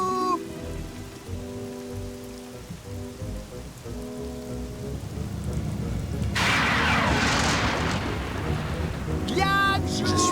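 Rain pours down during a thunderstorm, a dense steady hiss that swells louder partway through, with a brief sharper burst near the end and no voices.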